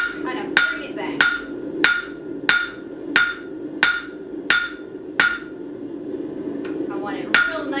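Hammer blows on hot metal at the horn of an anvil while forging scroll tongs, about a dozen sharp ringing strikes in a steady rhythm, close and loud, with a short pause before a final strike.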